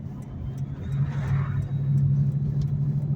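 A supercharged 2004 Ford Mustang Mach 1 engine hums in a low, steady drone while driving, rising slightly in loudness after the first second and staying moderate and close.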